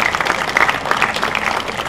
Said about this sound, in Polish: Zasłużone brawa.